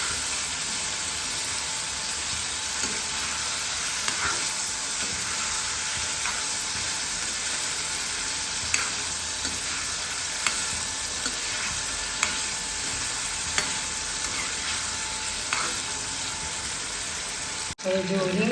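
Eggplant pieces fry in hot oil with a steady, close sizzle and occasional stirring clicks and scrapes, which run for a long stretch before cutting off abruptly near the end.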